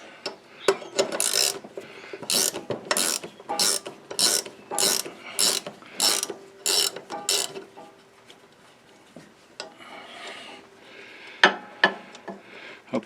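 A ratchet loosens a nut on a John Deere riding mower's steering, giving about ten quick, loud clicking bursts close by in a steady rhythm before fading to quieter handling noises.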